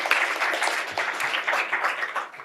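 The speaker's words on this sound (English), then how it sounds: "How about an applause for the good team," An audience at a school district board meeting applauds a sports team with a steady wash of many clapping hands, moderately loud and unbroken, with no voices standing out.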